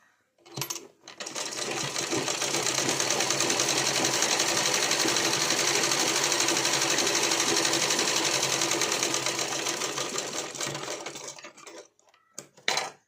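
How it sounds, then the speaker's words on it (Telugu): Sewing machine stitching a blouse, a fast, even mechanical chatter running steadily for about ten seconds, loud and close, starting and stopping abruptly with a few clicks at either end. "ఇంకో కుట్టేస్తాం"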